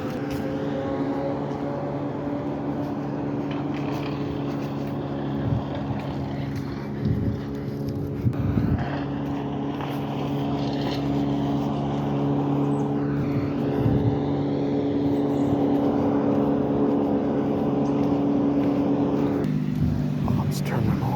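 A loud Bandit wood chipper mounted on an International truck shreds tree branches, with a steady droning engine hum, surges and grinding bursts as branches feed through, close and continuous, while people talk faintly underneath.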